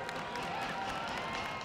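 A crowd cheering and clapping at an obstacle course competition final, a steady wash of applause and shouts from a packed venue, with an announcer talking over it.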